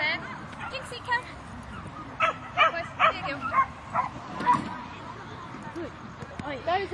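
Several dogs give short bow-wow barks and yips in bursts over a few seconds, mixed with whimpers and people talking in the background.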